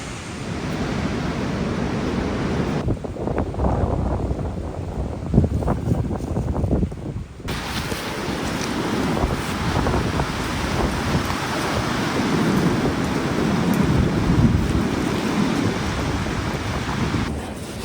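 Strong wind roars and buffets continuously against a tent on a 26-degree winter night, with heavy low rumbling gusts and flapping noise close to the microphone, no voices.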